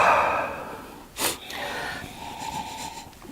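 A person takes a deep, drawn-out sniff of Rare Bird gin, loud and close, followed by a sharp breathy burst and softer wheezy breaths fading out.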